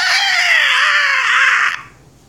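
A human voice imitates a pterodactyl screech with an inhaled, throat-constricted cry. It is one loud, sustained, harsh shriek with a wavering pitch that cuts off abruptly near the end, heard alone and close.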